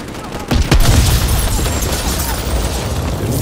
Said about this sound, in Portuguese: Ignorou a explosão.